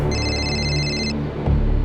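A phone rings with an incoming call at a small-town government health centre, a bright repeating electronic ringtone heard close and loud for about a second, then stopping abruptly over low background hum.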